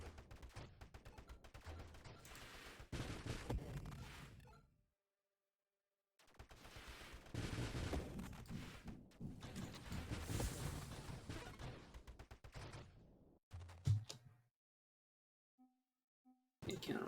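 Counter artillery fire in a video game, heavy rumbling booms and crashing impacts rolling in dense, sustained stretches, broken by a few brief silent gaps, with a voice speaking now and then.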